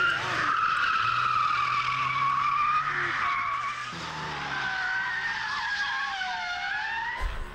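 A car spins out on the Nordschleife track during a touristenfahrten lap, with long, loud tire squeals and skidding. The squeal rises and falls in pitch over a continuous engine drone, then ends with a brief thump.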